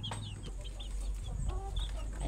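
Fifteen young chickens, about 45 days old, cluck and peep softly in scattered short calls over a steady background hum, with no clear talking.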